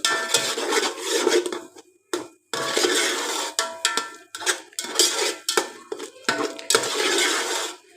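A spoon scraping and stirring spices, turmeric and crushed whole coriander, in a pan on the stove. Repeated close scraping strokes and clinks in irregular bursts separated by short pauses, with no talk.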